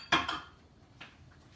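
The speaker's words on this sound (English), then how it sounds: "And I'm going to retrieve my pan from the oven." A pan is pulled from a very hot 450-degree oven, giving two quick metallic clanks close together, followed by a softer scrape and a faint knock.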